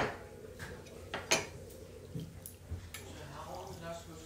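Hamburger and potato soup stirred in a pot, with faint scattered clinks and scrapes of a utensil against the pot, quiet and close, with a voice speaking softly.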